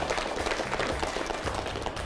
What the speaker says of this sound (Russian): Аплодисменты Тарбагатайскому району,